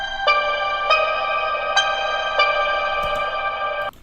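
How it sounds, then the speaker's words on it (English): A sustained synth tone runs through a reverb effect with a long decay time in FL Studio, restruck about every 0.6 seconds, each hit smearing into a large, lingering wash of echo with no talking. "Now, decay time is one of the most important parameters because that's going to determine how big your reverb sounds."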